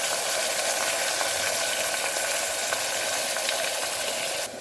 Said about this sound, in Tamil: இந்த அளவுக்கு வதங்கின உடனே தக்காளி, மஞ்சள் தூள், உப்பு போட்டு வதக்கலாம்